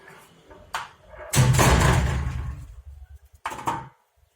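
A shop door swinging open and shut, with a short knock or bump, then a long sliding scrape of the door being moved, and a couple of softer thuds near the end, all loud and close with no talk.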